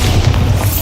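A Bombarda explosion spell in Hogwarts Legacy erupts as one loud, deep boom with rumbling low-end weight, close and continuous for under a second.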